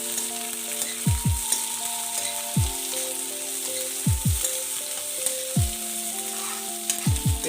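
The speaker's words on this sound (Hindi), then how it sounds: "इसे हमें जब तक सौते करना है जब तक कि लाइट ब्राउन हो जाए बिल्कुल" Chopped onions sauté in a pan toward light brown, crackling in a continuous sizzle while a steady background hum carries on with repeated low thumps.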